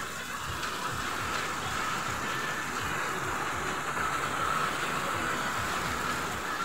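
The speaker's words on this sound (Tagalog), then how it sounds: "Sakto lang yung ulan niya ngayon." Moderate, steady rain falling during a windy downpour, a continuous even hiss of drops on surfaces that stays constant throughout, with no voices heard.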